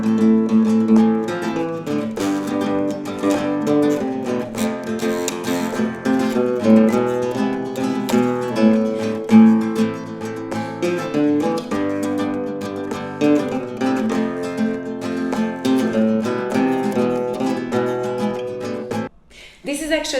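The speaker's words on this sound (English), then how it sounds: "use basslines when you do the improvisation, and it can sound something like this." A Spanish guitar improvises over a chord progression, weaving plucked basslines beneath the melody in a continuous, close, moderately loud passage that stops abruptly near the end.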